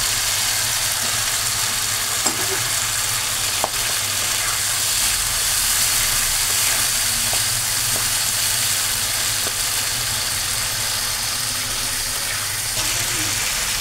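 Chopped vegetables for a potato and pointed gourd curry sizzling in hot oil in a pan, a continuous loud hiss with a few small clicks and pops.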